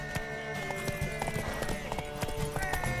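Horse hooves clip-clop quickly and rhythmically during a race in The Witcher 3 video game, under music and background voices.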